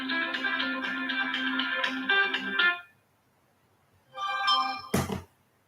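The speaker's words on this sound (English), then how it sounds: "Let me turn off my phone." A mobile phone rings with a bright, tonal melody for nearly three seconds, stops, then sounds again briefly near the end, followed by a sharp thunk as it is silenced; no talking.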